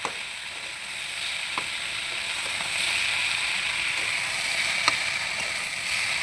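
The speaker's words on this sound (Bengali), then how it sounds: "মশলা দিয়ে আমরা একটুখানি কষে নিলাম।" Spiced moong dal mixture with turmeric, chilli powder and salt sizzling and being stirred in a pan, a soft continuous fry with faint spoon scrapes, steady and fairly quiet with no talk.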